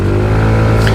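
TVS Ntorq 150 scooter at full throttle in race mode on an expressway, a loud close engine drone with steady low harmonics and wind rush for about a second.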